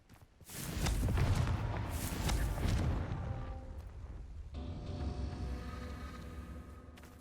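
A Confringo blasting spell going off in Hogwarts Legacy: a loud booming explosion that swells and rumbles for a few seconds, then decays into a lingering crackling tail.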